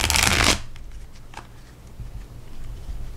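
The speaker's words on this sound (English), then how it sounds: "Shuffles very nicely, has a good bend to it." A Thelema tarot deck being shuffled with a bend, a brief loud fluttering riffle of cards up close, followed by soft handling noises and quiet rustling.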